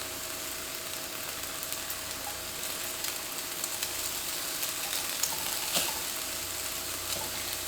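Crumbled tofu and vegetables frying in a pan over medium heat, a soft steady sizzle with occasional faint crackles and stirring scrapes, quiet and continuous with no talking.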